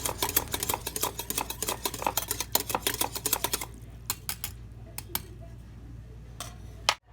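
Spoon stirring salt into hot water in a bowl until it dissolves, rapid close clinks and scrapes against the container that thin out into scattered taps near the end.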